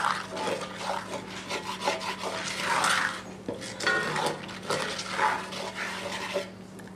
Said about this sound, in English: We want to whisk this for a good 2 minutes